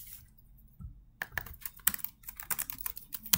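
A layer name being typed on a computer keyboard during design-software work: a short quiet lead-in, then bursts of close, crisp keystrokes, some quick and clustered, others spaced apart, with no voice.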